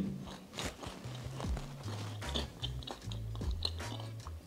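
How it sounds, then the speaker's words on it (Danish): A chocolate bar with caramel, biscuit and crispy bits is bitten and chewed up close, with crunchy, crackling chews repeating steadily and no talking. "Det knaser veldig, kanskje hører dere det."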